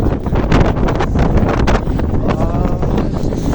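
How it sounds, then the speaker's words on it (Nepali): Cold wind blows hard against the microphone in snowy weather, a loud, buffeting roar with gusty rumbling and no talk. "कति चिसो हावा चलिरहेको छ"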